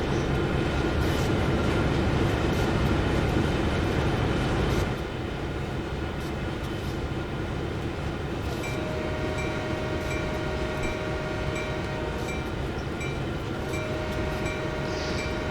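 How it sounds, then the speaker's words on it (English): A freight train in Train Sim World 2 rolls through a road crossing with a steady, loud rumble of wheels and cars, and sustained warning tones come in partway through. No one speaks. "blowing through this railroad crossing over the road"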